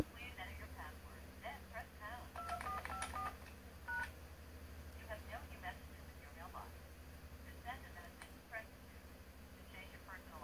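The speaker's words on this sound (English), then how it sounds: "now let me go ahead and try to dial out" A quick run of touch-tone dialing beeps on an AT&T 210 corded Trimline telephone, several short tones in succession, followed by quieter line noise and faint background sounds.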